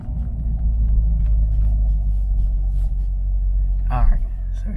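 A Camaro engine idles and rumbles steadily while creeping at low speed, a constant deep drone close by, with a brief higher sweep near the end.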